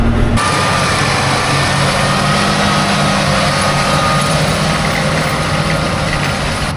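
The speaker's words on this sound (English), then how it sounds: "we'll have two balers going" A hay baler runs in a field: steady mechanical engine drone with a rattling, whirring machine noise running continuously at close range, loud and unbroken, no voices.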